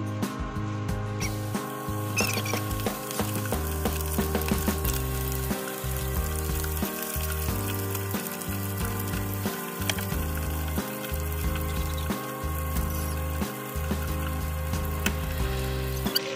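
Chicken necks fry in hot oil with a loud, constant crackling sizzle, close up, and dense popping spatters run the whole time without any voices.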